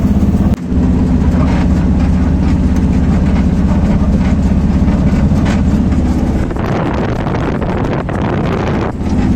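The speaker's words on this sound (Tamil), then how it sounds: "ட்ரெயின்" A train passing in darkness near a house in the forest, a loud, steady rumble with heavy wind-like roar that holds throughout and briefly dips near the start.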